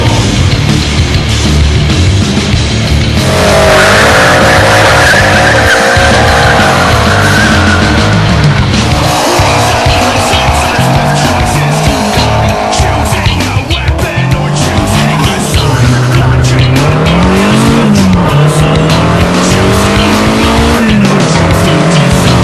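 A Datsun 240Z with an SR20DET engine revs hard and loud through gear changes while its tires squeal and skid in long sustained screeches, recorded close up.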